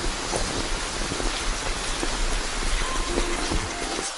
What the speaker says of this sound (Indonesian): Hujannya gede banget